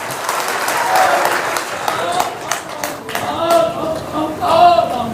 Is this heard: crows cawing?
no